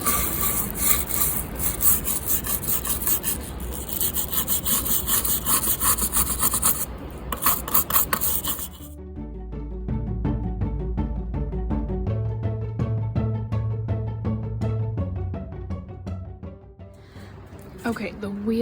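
Antique wooden furniture with thin veneer being sanded by hand: steady, close, continuous rasping strokes that shift to a lower, rhythmic rubbing partway through.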